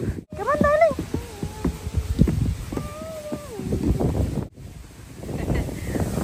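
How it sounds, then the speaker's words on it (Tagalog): Steady wind buffets the microphone outdoors, with a rumbling gusty roar under a few brief bird-like chirps and scattered movement sounds. "Mahangin sa labas, no?"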